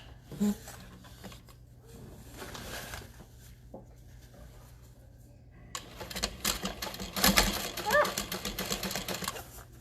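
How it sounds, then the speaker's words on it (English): A sewing machine top stitches a tote bag in uneven bursts of close, rattling needle clatter that grow busier toward the end, over a low steady hum with scattered handling knocks. "Make sure that seam allowance is pressed up towards the top and top stitch."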